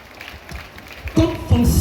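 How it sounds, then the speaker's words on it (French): Applause bursts out from the audience at a school cultural-days ceremony, rising sharply near the end of the brief moment after a lull of low room noise. "Sous vos applaudissements, s'il vous plaît."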